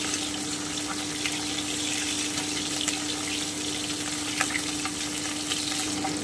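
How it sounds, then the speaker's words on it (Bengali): Bata fish fry in hot oil in a pan, a steady close sizzle and crackle that holds at an even level throughout, with a faint hum underneath. "আমার কিন্তু মাছগুলো ভাজা হয়ে গেল"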